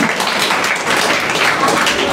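An audience at an Urdu mushaira poetry gathering at Batla House claps loudly, a dense and continuous roar of many hands that holds steady throughout.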